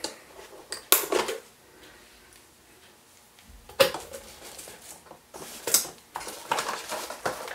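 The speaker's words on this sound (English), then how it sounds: "cut these zip ties." Zip ties on a HAIBOXING 1:18 scale 18859E Rampage RC car are snipped with cutters, giving a few sharp, sparse clicks close to the mic. Quiet handling noise fills the gaps.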